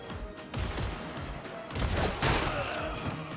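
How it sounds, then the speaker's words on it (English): Darktide warning cue for an enemy shooting from behind, a cluster of sharp gunfire-like cracks and bursts over a dense battle din with no talk. "That's the sound of someone trying to shoot you from behind."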